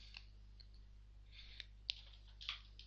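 Light typing on a computer keyboard while entering a router command, with scattered soft key taps and a few sharper clicks over a steady low hum, faint and without speech.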